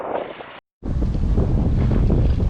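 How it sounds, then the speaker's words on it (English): A sailboat making about 6 knots off Mount Desert Island, Maine, with strong wind buffeting the microphone and steady rushing water, interrupted by a brief dropout of near silence. "We're out for another afternoon sail, making about 6 knots toward the east."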